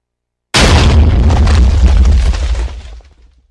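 A one-button cannon in Minecraft on Xbox 360 fires with a single sudden, loud explosive boom after a moment of silence. The blast rumbles on and fades out over about two and a half seconds.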